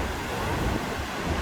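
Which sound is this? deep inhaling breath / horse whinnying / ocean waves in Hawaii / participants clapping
ocean waves in Hawaii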